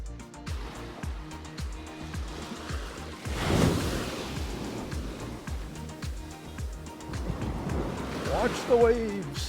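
Ocean waves wash onto a beach on North Vancouver Island on a rainy day, a steady rolling surf with a louder surge midway and another near the end, heard close with wind and rumbling noise.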